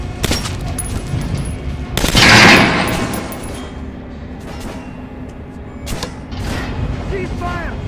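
Gunfire at a shooting range in Metro Last Light, with a loud burst of shots early on followed by scattered sharper reports and clatter over a steady background hum, with voices speaking throughout.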